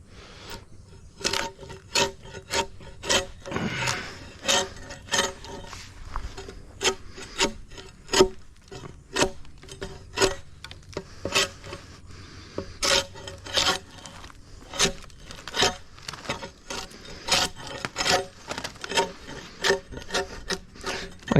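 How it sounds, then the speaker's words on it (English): Old paint is scraped and chipped away in repeated short rasping strokes, each a sharp close scrape at a steady, unhurried rhythm lasting about twenty seconds, with no talking. "Chipping away, chipping away."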